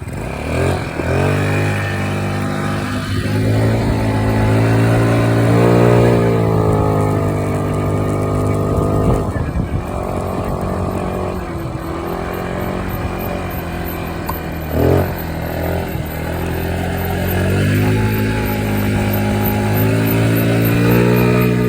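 A cheap moped with a rusted-out flat wheel, ridden as a mini bike, runs with a steady buzzing engine drone close by, rising and falling as the throttle is opened and eased off, with no talk over it.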